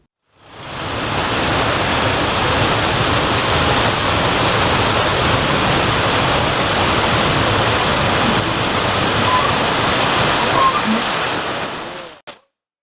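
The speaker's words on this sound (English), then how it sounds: "When the operator lifts the trapdoor, the water flies out and it spins the wheel at about 120 RPMs" Water gushes out of a raised trapdoor on a tank and drives the paddle wheel of an 1700s-era water-powered wood sawmill on Mackinac Island. The rush of water is loud and steady, like a waterfall, and it swells up and then cuts off sharply near the end.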